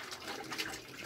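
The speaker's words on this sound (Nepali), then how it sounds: "भाडा धुँदै रहेछ" Water runs steadily from a tap while dishes are washed, a short, soft, even rush of liquid.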